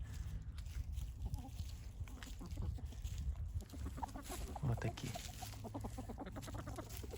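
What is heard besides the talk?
rooster and chickens clucking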